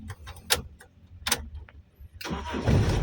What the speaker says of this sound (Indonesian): kita starter lagi coba